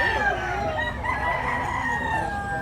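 A young lambuhom rooster (stag) in Tabunok, Cebu, crowing and clucking at close range, with a warbling crow and guttural clucks over steady background noise across the short stretch.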